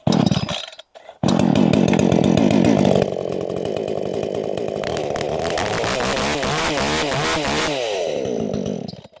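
Vitals BKZ 5634j petrol chainsaw pulled over, briefly cutting out, then catching and running steadily at a loud close idle with revving shifts, no talk over it.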